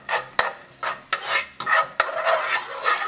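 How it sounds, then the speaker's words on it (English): Garlic sautéing in ghee in a pan, with sharp spatula knocks and scraping strokes at an irregular rhythm over soft, bursting sizzles, close by and free of speech. "Saute this garlic up a little bit in that ghee"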